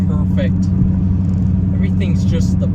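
A Dodge Challenger SRT8 cruises with a steady, loud low engine drone and road rumble throughout, with someone talking over it the whole time.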